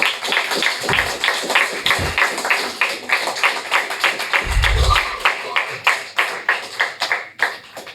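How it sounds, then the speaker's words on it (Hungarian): Audience applause at a shop-window exhibition award event, a fairly small group clapping in distinct, uneven claps with a few low bumps, thinning out toward the end. "egy tapsot szeretnék nekik kérni."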